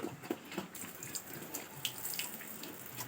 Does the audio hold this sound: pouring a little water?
yes